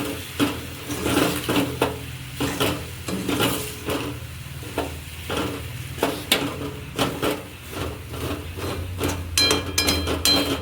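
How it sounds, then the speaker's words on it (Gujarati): A spoon stirs puffed-rice khichdi with spices in a pan, repeated scraping and clattering strokes in an irregular rhythm, close and fairly loud, with a light sizzle beneath. "મસ્ત રીતે બધું મિક્સ કરી નાખશું આપણે પેલા મસાલા બધું"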